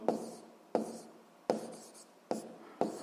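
Pen or pencil writing out a physics problem on paper, heard as five brisk scratchy strokes, each starting with a sharp tap and fading, spaced roughly evenly, close and alone.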